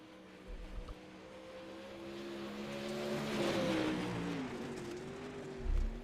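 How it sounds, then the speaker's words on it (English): A Pro Late Model race car on the Knoxville dirt oval in a sim racing game drones steadily as it builds speed on an out lap, its engine note rising and then easing, fairly faint and with no talk. "So Gailey on the outlap through 3 and 4, getting that car up to speed"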